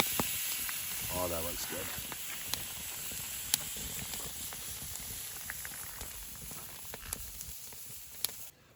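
A bison tomahawk steak sizzles on a backcountry grill just after being flipped, a steady broadband hiss running throughout with small pops, while a person speaks briefly over it.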